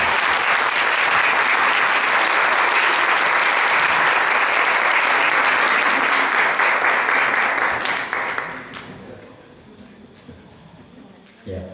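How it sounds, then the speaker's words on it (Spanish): Loud, dense applause from a crowd fills the space for several seconds, then fades to scattered claps and quiet room noise. "Un aplauso entonces."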